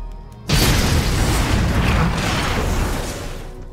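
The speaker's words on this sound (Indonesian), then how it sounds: "Kemudian Mayor Rudy meledakkan truk yang berisi barang haram milik para teroris." A sudden loud explosive boom of a truck blowing up in an action film bursts in after a brief quiet moment, followed by a sustained rumbling roar that slowly fades.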